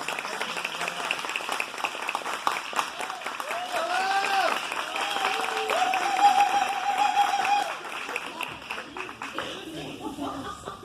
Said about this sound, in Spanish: Damos un aplauso a la profesora.